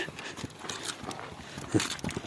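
A hobbled mare plods along, her hooves clopping in soft, uneven steps against faint background rustle.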